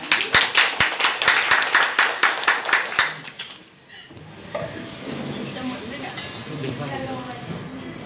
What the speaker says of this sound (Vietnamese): Một tràng pháo tay thật lớn dành cho chị đi ạ.